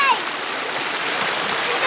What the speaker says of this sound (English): And it's a bit of a waterfall there.